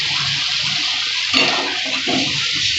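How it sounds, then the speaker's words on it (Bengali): Water is poured into frying masala for a fish curry, a steady loud hiss and rush with a sharp splash partway through and a second surge near the end. "পরিমাণ মতো জল দিয়ে দিচ্ছি।"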